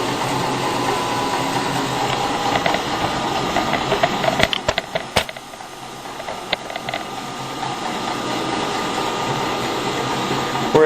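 Heat gun blowing into a breadmaker while it roasts coffee beans: a steady loud close whooshing roar throughout, with a few sharp clicks or cracks in the middle and faint background speech.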